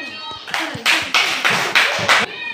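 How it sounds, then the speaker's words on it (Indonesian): Children in a classroom clap their hands together in several short, loud rhythmic bursts, with a teacher's voice heard briefly before the first burst. "Bagus, tepuk tangan."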